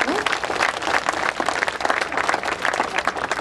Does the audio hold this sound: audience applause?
yes